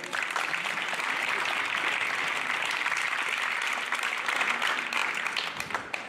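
Spectators applaud a finisher at the Course de la Bonette 2015 race, a dense, continuous outdoor clapping from a sizable crowd held at steady loudness for several seconds.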